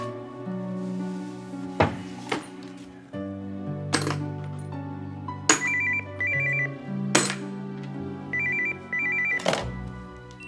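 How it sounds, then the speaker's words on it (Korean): A mobile phone rings in a repeating electronic pattern over sustained background music and sharp percussive hits in a Korean TV drama scene. "너 왜 핸드폰을 안 받냐?"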